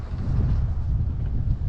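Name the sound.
wind blowing in Japanese garden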